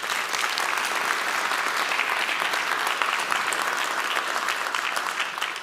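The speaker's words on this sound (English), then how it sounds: "So if you would, give them a round of applause." Large audience at a university's State of the University address giving a round of applause, a steady, even roar of many hands clapping heard alone, filling the hall for several seconds.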